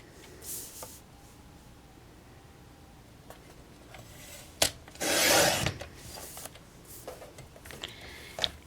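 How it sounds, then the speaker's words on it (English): Paper cut for a paper purse box base, heard as soft rubbing and scraping close by, a few sharp clicks, and one louder, longer rasping stroke in the middle, with no speech. "And then I go ahead and cut my box base"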